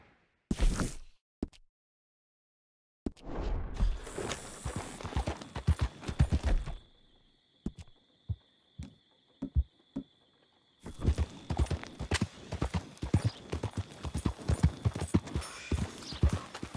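Horse hooves in the video game Red Dead Redemption 2, a rapid clip-clop gallop on hard ground that drops out in short gaps and resumes, close and clear with no talk.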